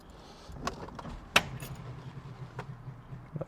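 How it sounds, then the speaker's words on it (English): Keys jingle faintly up close as a key goes into an MGB ignition, giving one sharp metallic click among soft rattles in a quiet car interior. "ignition in"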